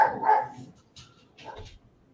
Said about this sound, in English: Dog's heard something.